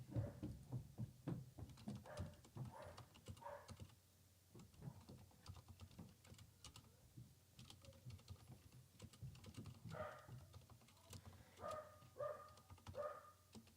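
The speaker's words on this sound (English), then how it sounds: "Loki, you can hear him up there, my dog." Dog barking somewhere upstairs in a house, several faint muffled barks in short bursts, distant under close keyboard typing.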